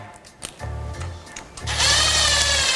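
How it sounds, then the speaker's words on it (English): A cordless drill on its lowest torque setting whirs in two short bursts, the second rising to a louder, strained whine as a clutch bolt on a Honda TRX450 engine tightens, close up. "I have the drill set on the lowest torque setting."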